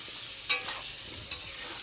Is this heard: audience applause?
no